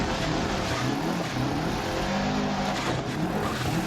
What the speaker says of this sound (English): A little bit of Scandi flick here.